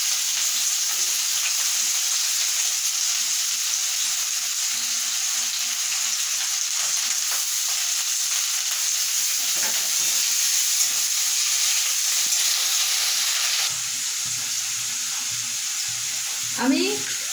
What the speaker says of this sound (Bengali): আলুটা লাল করে ভেজে তুলে নিয়ে তারপরে গাজর বিনসটা একসাথে ভেজে নেব